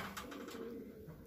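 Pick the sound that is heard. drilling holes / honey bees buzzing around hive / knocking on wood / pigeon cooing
pigeon cooing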